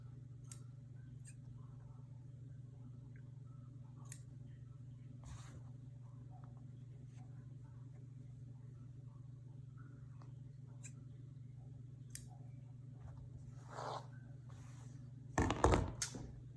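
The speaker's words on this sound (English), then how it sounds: "Now you can cut off the threads." Scissors snip loose threads from a sewn fabric face mask: a few faint, isolated clicks spread apart, ending in a brief cluster of sharper snips, all over a steady low hum in a quiet room.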